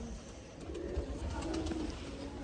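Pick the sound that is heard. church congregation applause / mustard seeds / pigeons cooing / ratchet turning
pigeons cooing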